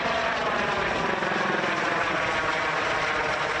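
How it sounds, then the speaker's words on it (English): A U.S. Customs and Border Protection helicopter flying overhead near Organ Pipe in the Arizona desert, a loud, steady rotor and engine roar that fills the whole moment with no voices. "a helicopter flew overhead"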